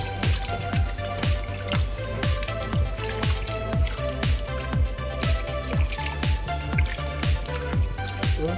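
Fish being washed by hand in a basin of water for homemade dried fish: close, repeated wet splashes and squishy sloshing in a steady rhythm, with water dripping and trickling in between.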